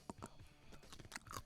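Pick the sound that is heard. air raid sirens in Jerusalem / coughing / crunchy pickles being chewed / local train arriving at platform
crunchy pickles being chewed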